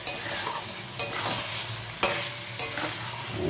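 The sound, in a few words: chicken being sautéed (kosha) in oil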